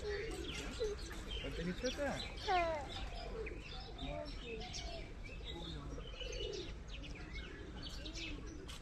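Mixed birds calling and cooing in a mini zoo at Savar, with chirps, tweets and dove-like coos scattered over steady crowd and ambient noise, while a person talks throughout.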